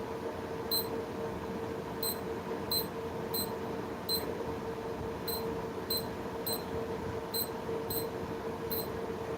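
A kitchen timer is set for about 20 minutes while a pillow-shaped sponge cake bakes, giving a series of short, evenly spaced electronic beeps over a steady low background hum, with no voices.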